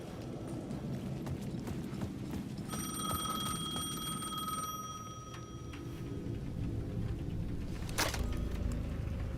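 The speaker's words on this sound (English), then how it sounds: "The payphone at the edge of the plaza was ringing again." Payphone ringing in the video game Alan Wake 2, a shrill electronic ring lasting about two seconds over a low ambient backdrop of a town plaza, followed by scattered clicks and a brief sharp burst near the end.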